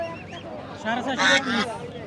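Chinese geese honk in a short, harsh burst amid a busy livestock market hum of voices.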